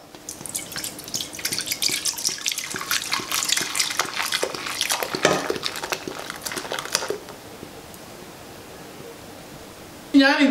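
Beer is poured into a magic cooker in a steady, close splashing stream of liquid that lasts several seconds. It then stops, leaving near silence, and a brief clatter comes at the very end.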